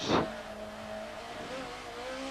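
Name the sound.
1992 BTCC touring car racing, shifting gears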